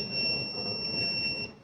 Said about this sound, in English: the buzzer sound indicates that the real-time prediction has started again.